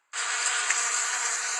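Swarm of bees at a rural beekeeper's site in Taguatinga, Brazil, a sudden dense buzzing hum that starts abruptly and holds steady and close for over a second, with no voices.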